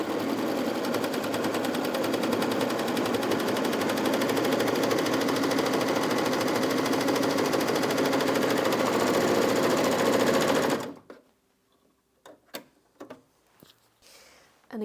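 Bernette b68 airlock overlocker stitching stable denim fabric, a loud, steady, rapid mechanical whir for about eleven seconds that stops abruptly, leaving a few faint handling clicks and knocks.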